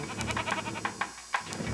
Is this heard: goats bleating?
yes